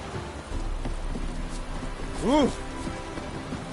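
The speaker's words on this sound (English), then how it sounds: "Looked like it would rain, and here it is." Rain falls steadily in a fantasy game world as a storm builds, a continuous hiss with a low rumble, while a man lets out a short exclamation partway through.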